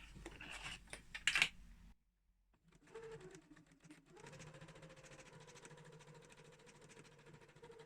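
A sewing machine stitches fabric in a short burst, then stops, and after a quiet pause restarts, running a steady, even whirring stitch close by.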